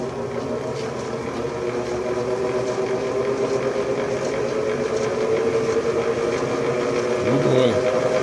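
Atlas metal lathe running at about 1270 RPM, giving a steady, loud mechanical whir and hum with a rattling drive throughout, close up and continuous.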